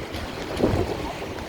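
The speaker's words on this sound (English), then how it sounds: "Rain is really coming down now." Heavy rain falls on a foggy downtown Chicago street in Streeterville, making a steady, close, broadband wash of hiss and rumble with no pauses and no voices.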